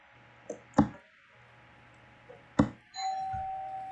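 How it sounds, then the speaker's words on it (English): Home doorbell chiming during an online gaming session, two separate bright ding tones a couple of seconds apart, near and fairly loud against quiet room noise. "the doorbell rang for a package"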